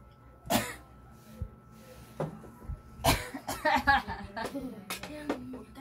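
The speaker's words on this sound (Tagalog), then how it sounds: "Ang hawa tapos inuubo rin kami." Someone coughs at a shared meal of chicken afritada. A sharp cough comes early, then another harder cough, followed by a run of throat-clearing and chuckling sounds, all fairly close with quiet background between.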